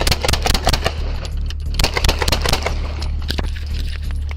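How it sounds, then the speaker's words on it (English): Gunshots crack during a police shootout, coming as rapid, sharp bursts in quick irregular succession, loud and close over a continuous low rumble, with no clear talking. "481, shots fired!"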